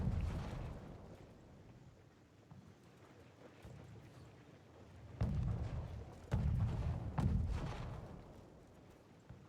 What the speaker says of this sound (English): BOD now committing some artillery, but I'm not sure their position.